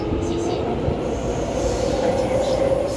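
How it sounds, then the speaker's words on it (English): A train sits at a station platform in Taiwan, its steady rumble and hum filling the scene with a rising tonal whine, close and loud, with no talking. "So we just missed our train"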